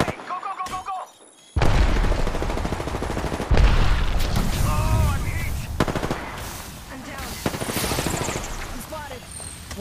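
Gunfire bursts and grenade blasts from a battle in Apex Legends, with loud, dense shooting running almost continuously after a brief quiet start and a heavy thump partway through, while a voice speaks underneath.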